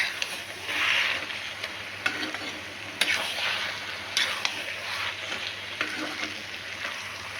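Bengali spinach chorchori with carrot, pointed gourd, potato and eggplant sizzles steadily in a pan, with a spoon scraping and stirring in sharp intermittent knocks over the constant frying hiss.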